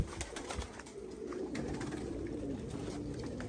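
Pigeons kept for sale coo in low, rolling calls throughout, close by and steady, over faint clatter and rustling.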